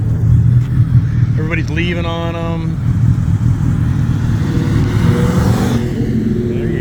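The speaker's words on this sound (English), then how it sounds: "Want to hear him. Hear his exhaust." A motorcycle's exhaust rumbles and revs at a Sunday car and bike meet, a loud, steady low growl with a rising rev in the middle, while people talk nearby.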